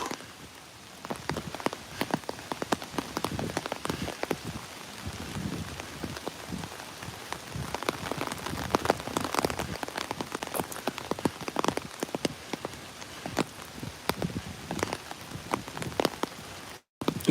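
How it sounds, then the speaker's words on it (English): Steady rain pours down outdoors, a constant close crackle and patter of drops on surfaces with scattered louder impacts, heard alone without speech throughout. "It's raining."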